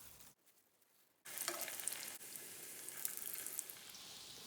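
Chicken shami kababs frying in oil, a soft sizzle that starts after a short near-silent gap, then carries on as a faint, steady crackle with small pops.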